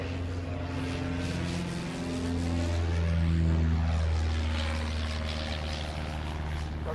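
A vintage aircraft with a 62 hp Wilson Micron Czechoslovakian engine flies past overhead, its propeller drone rising steadily to a peak and then easing away, with a wavering buzzing tone and no voices.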